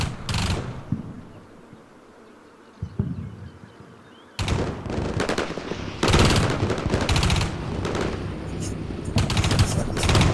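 Machine gun suppressive fire raking buildings in the video game Combat Mission Shock Force, with sustained rattling bursts of automatic gunfire in the second half, following earlier scattered shots and a quieter stretch.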